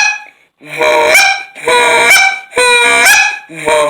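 Duck call blown in a 'who it' pattern, three loud, nasal two-part honks in steady rhythm, close and alone after a brief lead-in note.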